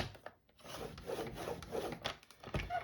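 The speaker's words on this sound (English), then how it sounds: "we're gonna score it at 5 1/4" Cardstock being scored with a scoring tool while making a card folio, producing soft scraping and rubbing strokes at close range, faint and uneven with no talking.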